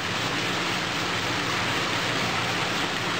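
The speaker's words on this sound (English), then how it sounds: "Put some clean water in the bag to rinse it off." Clean water pours steadily into a bag holding razorback sucker fish eggs for rinsing, a constant broadband rushing sound without breaks or voices.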